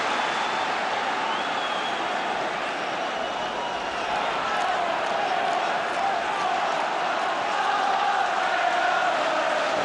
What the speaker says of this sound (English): Well, the crowd are enjoying this now.